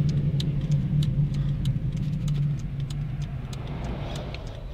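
A car's engine drones loudly and steadily as its wheels spin on asphalt in fifth gear, a close mechanical hum with faint ticking on top and no speech.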